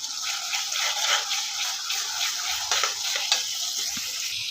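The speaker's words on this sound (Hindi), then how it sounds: "तो ऑयल गर्म हो गया, अब हम इसमें डालेंगे प्याज।" Onions frying in hot oil for a beef stew, a bright steady sizzle with rhythmic stirring swells and a few scraping knocks, close and clear.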